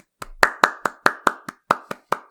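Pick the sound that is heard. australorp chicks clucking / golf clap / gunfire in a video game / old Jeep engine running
golf clap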